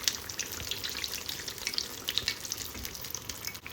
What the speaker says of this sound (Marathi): दोन्ही बाजूनी छान तळले गेले पाहिजे